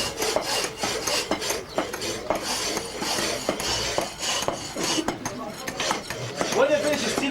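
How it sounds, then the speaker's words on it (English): Metal being polished by hand with a sanding stone in a traditional Egyptian workshop, a close, uneven scraping and rubbing with irregular strokes and occasional light clinks. "you polish again the outside by sanding stone"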